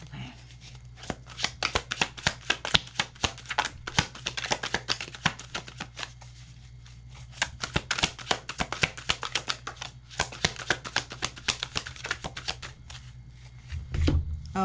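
A deck of tarot cards is shuffled by hand in rapid, crisp riffles and flicks, close and fairly quiet, in bursts with short pauses before a soft rustle at the end.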